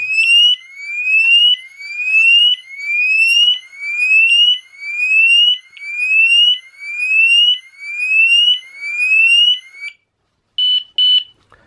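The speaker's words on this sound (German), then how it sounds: "das ist die Alarmsirene" A loud Homematic IP smart home alarm siren wails in repeated rising sweeps, about nine cycles, then cuts off and gives a few short beeps.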